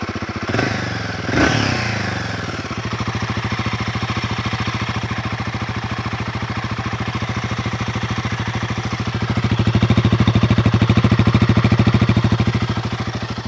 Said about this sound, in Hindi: एग्जॉस्ट जो है काफ़ी बूमी सा साउंड आपको दे रहा है।